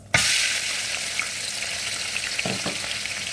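Chopped onions hit a little hot oil in a pan for vegetable stew, bursting into a loud steady sizzle that holds evenly throughout, with a few soft stirring clinks near the end.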